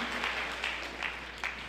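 A church congregation claps in a short burst of applause, a few soft rhythmic swells of hand claps at moderate distance with no voices over it.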